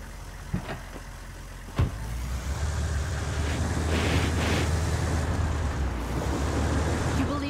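A car engine rumbles steadily as the vehicle drives off in Ghost Recon Wildlands, a couple of sharp knocks at the start giving way to a sustained, rising road roar.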